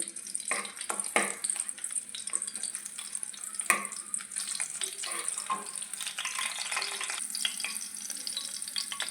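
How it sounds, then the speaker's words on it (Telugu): Finely chopped green chillies frying in hot oil in a pan, a close crackling sizzle with irregular sharp pops and spatters throughout, no voices. "సన్నగా తరిగిన పచ్చిమిర్చి ముక్కలు వేసుకొని వాటిని అట్లా ఫ్రై చేయాలండి."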